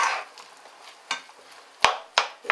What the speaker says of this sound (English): So I'm just adding my chopped peppers, stir that in.